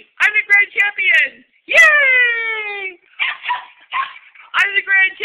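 A small American Eskimo dog gives a run of high yips and whimpering barks, with one longer whine in the middle, close and fairly loud, with no talking.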